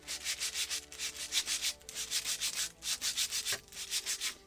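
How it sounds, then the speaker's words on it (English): Wooden part of a Muscongus Bay lobster smack model kit being sanded by hand with roughly 100-grit paper, a steady series of close, rhythmic rasping strokes with no talk. "And also I'm turning and sanding."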